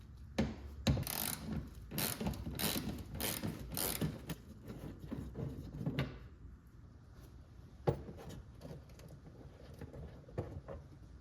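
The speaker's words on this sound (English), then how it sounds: "all we have to do is to remove these two 10mm bolts over here" A ratchet wrench removes 10mm bolts from the fender liner of a first-generation Lexus SC 300/SC 400 (Soarer), producing a rapid run of close clicking pawl strokes followed by sparser, isolated clicks and clunks.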